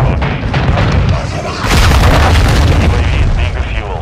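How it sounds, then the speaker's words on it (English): A cruise missile blast in Call of Duty MWII: a loud, close boom builds and rolls on with a heavy rumble, while voices and game chatter sound underneath. "Watch out, cruise missile."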